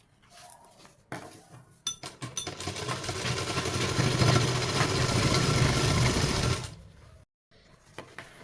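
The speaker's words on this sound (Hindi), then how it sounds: "आपको आगे वाली बेल्ट पर इस तरीके से सिलाई लगानी है" A sewing machine runs a long continuous stitching burst along the front waistband of ladies' pants, starting with a few short stutters, then buzzing steadily and loud up close before stopping abruptly, followed by faint handling clicks.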